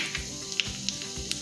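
Mustard seeds and jeera sizzling in hot ghee, a soft continuous hiss broken by several faint pops and crackles, close and quiet, without speech.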